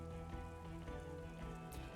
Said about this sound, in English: It's been raining for like 50 minutes.